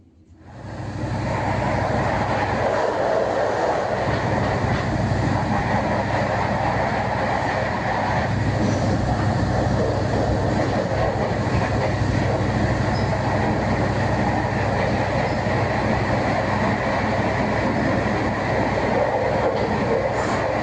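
A commuter train runs between Jogja and Solo, heard from inside the carriage as a loud, unbroken rumble with faint rhythmic wheel clatter throughout.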